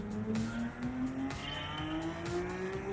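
A RUF RGT 4.2 sports car in Gran Turismo 7 revs high and hard, its engine note climbing steadily through the gears with quick shift dips, loud and continuous with no talk.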